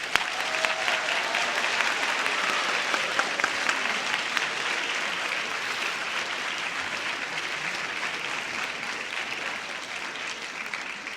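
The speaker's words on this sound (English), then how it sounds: "Please give an applause to the Freshman Orchestra Council." Sustained applause from an audience at a high school orchestra senior night, steady and fairly loud clapping for the freshman orchestra council, lasting throughout without pause or talk.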